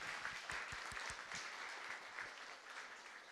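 An audience claps for a church group, scattered hand claps starting crisp and fairly close, then thinning and fading into quieter, softer applause.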